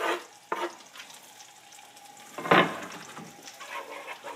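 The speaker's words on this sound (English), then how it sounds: "While this butter is melting, I'm going to slide this ham in there so we can start getting some of the flavors into the butter" Ham sizzles in melting butter for a thin meat gravy, a soft, continuous frying hiss broken by a few scrapes as it is moved around the pan. Near and moderately quiet, no talking.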